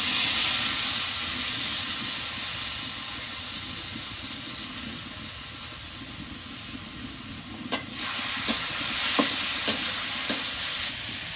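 Red lentils sizzling loudly in a hot pan while being stirred, a steady bright hiss of frying with a few sharp scraping clinks of the utensil toward the end.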